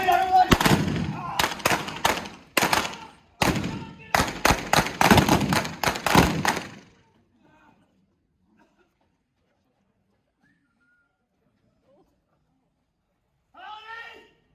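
Gunfire from an O.K. Corral gunfight reenactment in Tombstone, Arizona: a rapid volley of loud, sharp shots in clusters over several seconds, then near silence with a faint voice at the end.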